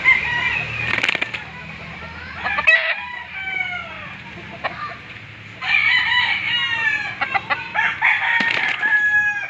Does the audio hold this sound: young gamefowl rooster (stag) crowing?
yes